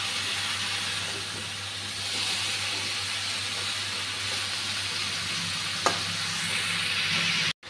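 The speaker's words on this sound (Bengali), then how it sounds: "মশলার সঙ্গে একদম ভেজে নেব ভালোভাবে" Vegetables fry with spices in a hot pan, giving a steady, close, dense sizzling hiss that barely changes, with one brief knock near the end, and no one talks.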